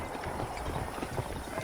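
Horse hooves clip-clop at a steady trot in the Western video game Red Dead Redemption, a fairly soft, rhythmic patter with faint background ambience and no talk over it.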